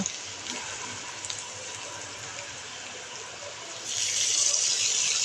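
Water is poured into a pan of frying onion with turmeric and red chili powder while cooking dried mola fish bhuna: a steady watery hiss that swells into a louder, brighter gush near the end, with no talk.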